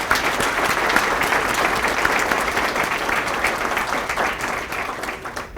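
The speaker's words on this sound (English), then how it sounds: "Let's give another round of applause for them." An audience at a community friendship and solidarity dinner and awards ceremony applauds, a loud sustained roar of many hands clapping that holds steady and begins to taper slightly near the end.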